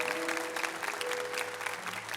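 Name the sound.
congregation applauding in church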